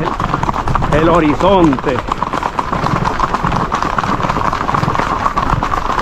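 Horse hooves clip-clop in a steady walking rhythm while someone rides along Route 429 in Puerto Rico, with people talking loudly over the hoofbeats throughout.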